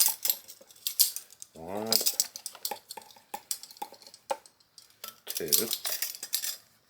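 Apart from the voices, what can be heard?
spooning chili powder into a dutch oven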